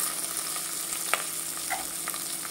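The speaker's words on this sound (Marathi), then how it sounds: "कांदा भाजून घेऊया आपण" Lengthwise-sliced onions fry in a hot pan with a steady, close hiss of oil, and a few soft stirring clicks come through over about three seconds.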